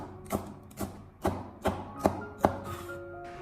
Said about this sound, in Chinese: 把辣椒把去掉，然后再直接的改刀切成小圈